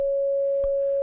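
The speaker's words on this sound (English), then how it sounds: "That's what a sine wave looks like in real time." A pure sine tone from a synthesizer holds one steady pitch at constant loudness, broken only by a brief click midway.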